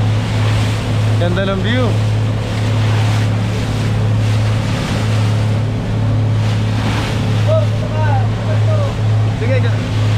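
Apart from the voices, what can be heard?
big sea waves around a boat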